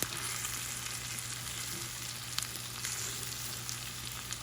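Food browns in a hot pan with a steady, fairly faint sizzle and crackle that holds evenly throughout, with an occasional louder pop.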